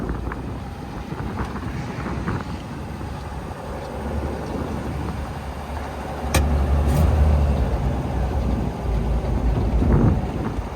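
A 1924 Packard Single Six touring sedan on the road, its engine droning steadily under wind rush before the engine note swells louder partway through and stays strong to the end.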